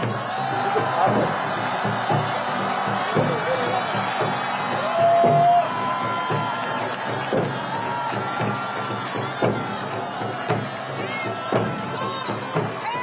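Large crowd at a final campaign rally outside Seoul City Hall cheering and clapping, with whoops and shouts rising over a continuous roar, a voice talking through a loudspeaker amid it.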